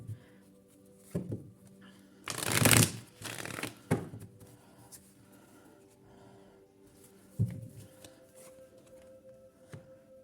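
Tarot cards shuffled in a quiet room: a few soft riffles, then a long, loud burst of shuffling, followed by scattered quieter card flicks and taps, close and alone without voices.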